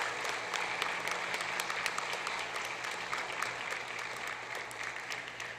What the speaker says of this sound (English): give them a very mighty, lusty round of applause